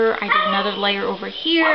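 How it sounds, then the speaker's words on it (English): A small dog barks and yips in short bursts close by, mixed in with someone talking over it indoors during a papercraft session. "please excuse my dog."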